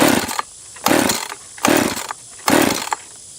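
Husqvarna chainsaw on a hot start, choke off and decompression valve pressed, giving four short loud pull-cord bursts about a second apart, each sputtering without catching, with quiet gaps between.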